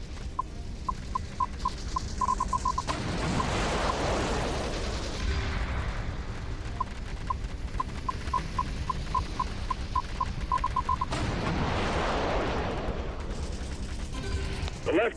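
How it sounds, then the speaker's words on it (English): Missiles and gunfire in an HTC Vive virtual reality combat game: two bursts of rapid, steady beeping tones, each followed by a loud whooshing, rumbling blast. "Use the right trigger to fire missiles."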